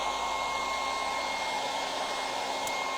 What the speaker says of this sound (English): I'll hit it with the hairdryer.